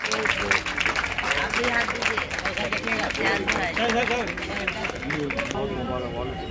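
Audience applause at an Urdu community award ceremony in Asansol, steady dense clapping through the whole stretch with crowd murmur and talk mixed in, fairly loud and close.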